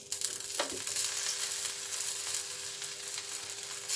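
Adana kebab meat and its fat sizzle on bread in a toast maker, a continuous close hiss with a brief scrape near the start, no talk.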